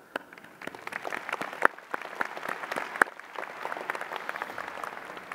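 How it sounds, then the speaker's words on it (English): A graduation ceremony audience claps, starting sparse and quickly building into moderate, steady applause with a few sharp, loud claps standing out, heard from a little distance and alone. "I'd like to give you all a round of applause"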